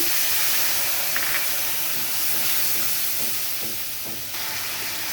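Steady sizzling and hissing of ginger, cumin powder and turmeric frying with a little water in a hot pan, continuous and fairly loud, with a few faint stirring clicks and no voices.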